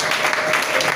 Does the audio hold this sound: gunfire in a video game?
no